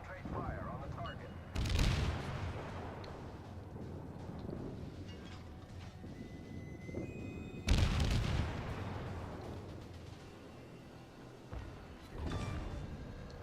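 Bursts of gunfire from units in a strategy video game, with two heavy loud volleys that decay into rolling fire and smaller shots in between, over a steady background.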